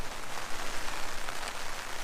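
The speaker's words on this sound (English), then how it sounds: "it's raining" Rain falls steadily outside near a 1997 Eclipse GSX, a soft, even hiss of drops pattering on surfaces without any voices.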